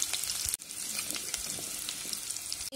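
Mustard seeds, cumin, garlic and curry leaves frying in hot oil for mango pickle, a dense close crackling sizzle with tiny popping bursts, steady throughout with two brief dropouts.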